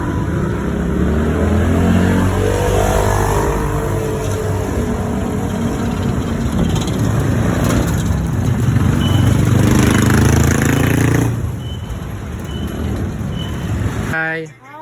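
A car travels the road on the way to Navotas, its engine and road rumble steady and loud from inside the cabin, with talking over the drive and the noise dropping away at the very end.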